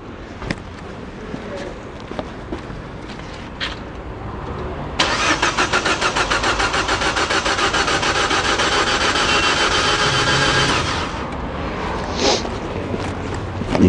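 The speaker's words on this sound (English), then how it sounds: "I'm just going to crank the engine" A Citroën C3 Picasso car engine cranks with a rapid rhythmic churning for several seconds during in-cylinder pressure testing, loud and close, after some quieter handling noises, then stops.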